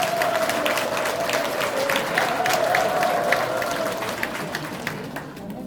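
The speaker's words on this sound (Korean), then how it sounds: "박수 한번 주시기 바랍니다" An audience at a Korean political rally in Gumi claps steadily and densely for an arriving lawmaker, a sustained wash of hand claps at close range with little talk over it.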